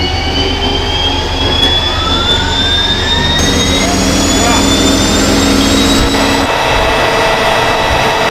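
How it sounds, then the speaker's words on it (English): An M1 Abrams tank's Honeywell AGT1500 gas turbine engine spools up on start, a loud continuous jet-like whine with rising high-pitched tones over a heavy low rumble, steady and close throughout. "Starting the M1 Abrams tank engine sounds kinda like a fighter jet."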